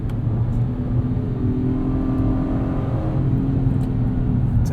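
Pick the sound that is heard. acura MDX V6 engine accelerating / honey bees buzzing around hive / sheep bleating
acura MDX V6 engine accelerating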